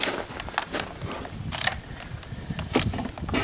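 Plastic pull-apart cable connectors on garden extension wiring snap and click together in a handful of short, close plastic clicks and rattles, with faint handling noise between them.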